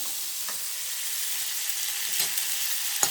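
Butter sizzles steadily in a pan while coconut burfee is being made, a continuous close hiss of frying with a couple of faint stirring clicks and no speech.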